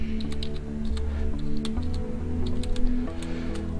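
Rapid keystrokes on a computer keyboard, typing out a single word in a short burst of irregular clicks, close and clear over a steady low hum.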